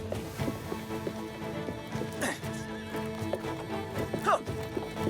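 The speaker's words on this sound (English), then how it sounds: "My horse! Where's my horse?" A horse whinnies sharply twice amid the clatter of hooves in a busy ancient outdoor setting, the neighs rising loud and near over continuous clip-clopping and faint background commotion.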